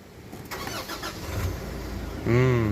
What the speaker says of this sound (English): Okay, so now let's start the car. Put your phone on brake and hit the start stop button.